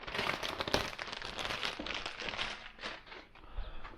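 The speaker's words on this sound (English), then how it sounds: "We've got our Mac Mini wrapped in plastic here. So we'll unwrap that." A 2020 M1 Mac Mini being unwrapped from its plastic wrap, close crinkling and crumpling of plastic in continuous irregular bursts, fairly quiet with no talking.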